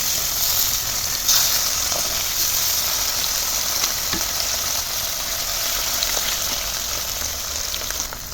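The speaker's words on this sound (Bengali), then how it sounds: "তবে মাছ ভাজা দিয়ে ভাত খেতে হলে মাছগুলো একটু কড়া করে ভাজতে হয়।" Hilsa fish pieces frying crisp in hot oil in a pan, a steady close, loud sizzle lasting throughout with faint crackles and a soft clink near the start, no voices.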